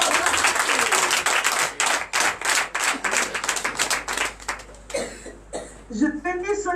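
A church congregation at a morning prayer service claps in a rhythmic, loud burst of many hands, with voices and cheers mixed in before the clapping gives way to talk.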